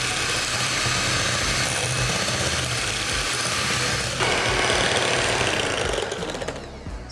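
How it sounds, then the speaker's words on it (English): An electric whisk beats vegan cake batter with a steady, loud motor whir that runs continuously and shifts in tone partway through before winding down near the end. "I'm going to use the electric whisk."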